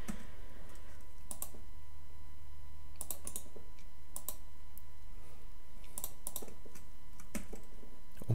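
Computer keyboard keys pressed in scattered taps and short bursts over a steady low hum, close and fairly quiet, while building a game in the Solarus 1.3 engine.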